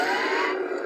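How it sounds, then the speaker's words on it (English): Blaster-block effect from a Sumerian Custom FX lightsaber, a brief bright electronic burst with a buzzing, siren-like hum, loud and close, lasting under a second with no voices. "You tap it to get your blaster blocks."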